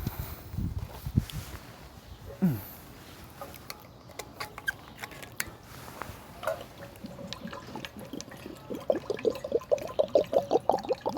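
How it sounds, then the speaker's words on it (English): Drinking water being poured during a lecture, a faint trickling and patter with small clicks and knocks of the container, building to a steadier pour near the end, quiet and close with no talk. "One second, I need some water."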